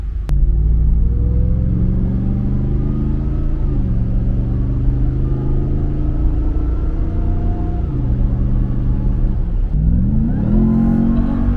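A 2023 RAM TRX pickup accelerates on a highway, its engine droning loudly and climbing in pitch through several gear shifts, heard from inside the cab over steady road rumble.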